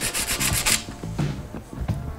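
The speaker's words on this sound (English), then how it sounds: "sanding your rotor works and it'll help rough up the surface" A Shimano Ultegra bicycle disc brake rotor is sanded by hand, a series of quick rasping strokes close up, brisk and rhythmic at first and then softer and more spaced out.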